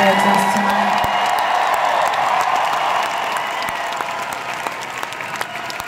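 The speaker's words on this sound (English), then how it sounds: "How about a big round of applause for my incredible band and my amazing dancers tonight?" A big concert crowd applauds the band and dancers with dense clapping and scattered cheers and whoops, loud at first and easing slightly toward the end, with a faint voice under it.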